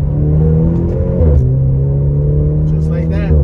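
A car accelerates on a highway to pass another vehicle, its engine droning close and loud with a steady rising hum and a brief shift in pitch midway.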